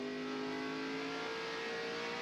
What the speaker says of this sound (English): listen to the engine on Ryan Newman's car